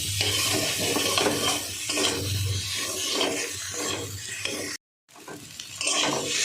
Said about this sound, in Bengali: দেখুন আলুটা কষানো হচ্ছে।